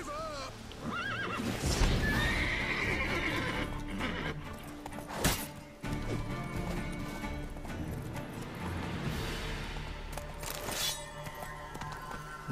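A horse in the video game The Witcher 3: Wild Hunt whinnies loudly near the start, followed by scattered hoofbeats and a couple of sharp thuds over a low ambient background.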